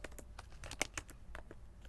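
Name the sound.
typing a terminal command on a computer keyboard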